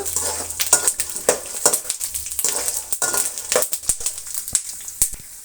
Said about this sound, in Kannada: ತುಂಬಾ ಕಪ್ಪುಗಾಗ್ದಿರ ಚೆನ್ನಾಗಿ ಫ್ರೈ ಮಾಡ್ಕೋಬೇಕಾಗುತ್ತೆ ಕಡಲೆ ಬೀಜ ಮತ್ತು ಕಡಲೆಬೇಳೆ ಎರಡೂ